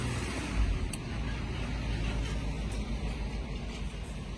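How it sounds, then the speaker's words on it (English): Outdoor road traffic with cars passing nearby, a steady low rumble of engines and tyres filling the background without pause, no voices over it. "this is what happens when you outside, just real life sounds and real life traffic and real life cars and things"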